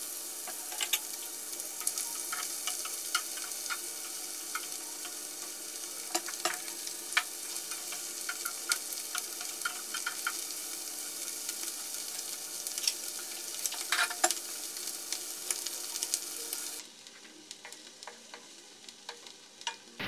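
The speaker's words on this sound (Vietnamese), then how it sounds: "chúng ta sẽ cho trứng vào để đảo săn qua các bạn ạ" Quail eggs stir-fry in a pan with a steady crackling sizzle and scraping stirring strokes through most of the stretch, then the sizzle drops sharply near the end, leaving quieter kitchen sounds.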